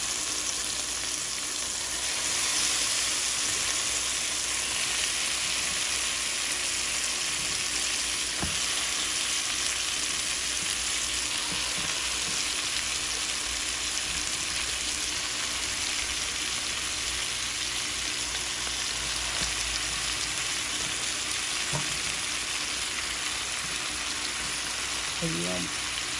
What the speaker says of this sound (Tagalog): lagay na natin yung isda natin